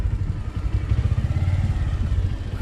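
A motorcycle engine idles with a low, rapid, throbbing putter, steady and close throughout.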